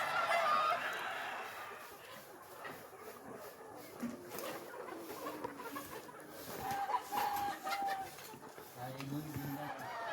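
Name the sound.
Sonali chickens clucking on a poultry farm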